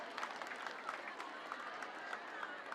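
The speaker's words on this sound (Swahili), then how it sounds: "Hebu wapigie makofi hata kama kanisa tuko" Quiet, distant applause from a crowd gathered at a church event, an even patter of clapping lasting a few seconds, with some faint murmur beneath it.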